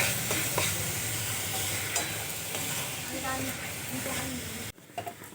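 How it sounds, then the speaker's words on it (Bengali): Coconut and jaggery filling stirred in a pan for steamed rice-flour pitha, a steady scraping and soft sizzling that runs for several seconds before stopping abruptly near the end. "আমি বেশ কিছুক্ষণ ধরে এইভাবে নাড়াচাড়া করে পুরটা তৈরি করে নিয়েছি।"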